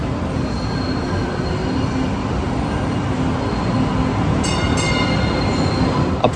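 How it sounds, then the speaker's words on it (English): An MBTA Green Line E train, a Type 8 light-rail car built by Ansaldo Breda, rides northbound from Government Center, with a loud steady rumble of wheels on track, thin high squeal tones and a couple of sharp clicks. "Let's hop on an E train northbound from Government Center to Medford/Tufts"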